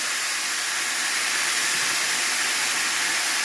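Onion hits a hot, greasy pan on a stove and sizzles, producing a loud, steady, hissing wash of frying noise that continues unbroken throughout.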